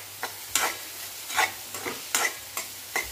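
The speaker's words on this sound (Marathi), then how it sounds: "कांदा मीडियम टू लो गॅसवर छान भाजून घ्यायचा आहे" Chopped onion frying with salt in a pan over a medium-low gas flame, a soft steady sizzle broken by several scraping stirs of a spoon at a quick, uneven pace.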